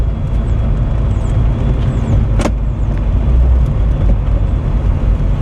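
A flood-damaged Mitsubishi Eclipse rolls along with a loud, close, steady rumble of tires and drivetrain, one sharp knock partway through, no voices.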